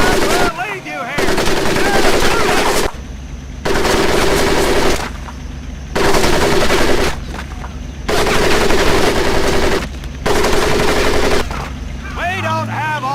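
Bursts of rapid machine gun fire in the World War II shooter Medal of Honor Pacific, loud repeated volleys of a few seconds each with brief gaps, over a low rumbling background.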